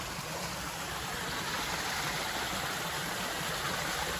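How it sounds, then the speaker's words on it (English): A waterfall spills from a lake down into a pond pool, giving a constant rushing wash of water that holds steady and fairly distant, with no voices. "You can probably hear a waterfall."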